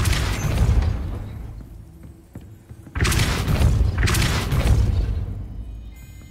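The Depulso spell in Hogwarts Legacy fires as deep, heavy booming blasts: a rumbling burst at the start, then two more sharp, loud impacts a second apart that trail off into a low rumble.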